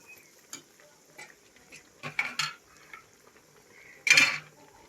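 Frying onions, cooked soft and reddish, stirred in a pan with a utensil: a few scattered scrapes and clinks, with a louder cluster midway and a sharp final scrape, over a faint sizzle, no talking.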